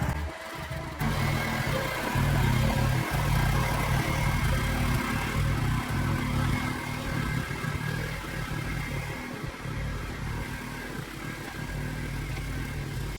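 A tractor engine runs steadily throughout while digging, a loud, continuous mid-pitched drone with slight variations in load.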